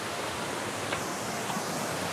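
A crowded waterfall, Curug Lawe, roaring as a steady, even broadband wash of falling water heard up close without talk.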